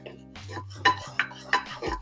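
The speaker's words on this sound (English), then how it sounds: "you want to stir it pretty vigorously. This is what's known as a blonde roux" A blonde roux for jambalaya stirred vigorously in a pot, with a few sharp spoon clanks against the metal over a low hum, close and brief.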